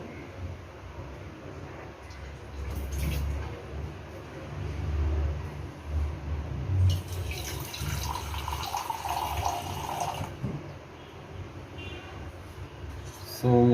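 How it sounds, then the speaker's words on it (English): Water runs from a tap into a 750-watt mixer grinder jar, splashing and swirling for several seconds and shifting in pitch as the jar fills, with some handling noise. "So let's fill some water in this and then wash it actually."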